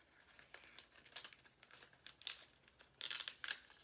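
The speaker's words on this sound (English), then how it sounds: "And you just start peeling away, like I said, what you don't want." Cricut infusible ink transfer sheet being peeled away by hand, giving soft, close crinkling and tearing rustles in irregular bursts that grow louder near the end, with no talking.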